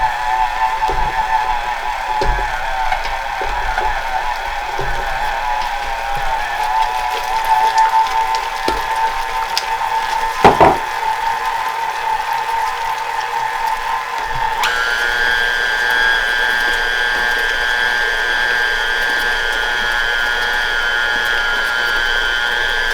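Stand mixer running steadily with Kugelhopf dough, a continuous whirring motor hum with small clicks and a knock, shifting to a higher pitch partway through, close and alone.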